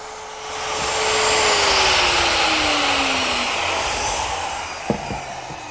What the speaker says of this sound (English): a router with this little collar, and I just remove the bad material to start